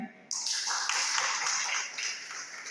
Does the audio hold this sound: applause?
yes